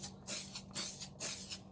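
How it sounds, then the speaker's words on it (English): Spray paint hisses from an aerosol can onto a KitchenAid stand mixer in three short, close bursts with brief pauses between, quiet and alone. "I'm going to start spraying."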